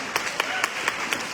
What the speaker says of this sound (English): So give a round of applause for her.